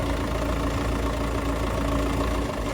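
A farm tractor engine idles after being started, a steady close mechanical rumble with an even chugging beat held throughout, no voices.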